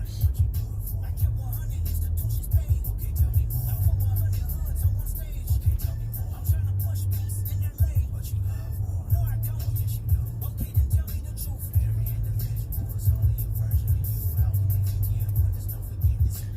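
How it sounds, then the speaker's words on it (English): Steady low road rumble from inside a car in heavy traffic while merging onto Route 76, a dense engine and tyre drone that stays loud and continuous with no breaks. "I feel like you shouldn't have this type of traffic just getting on 76."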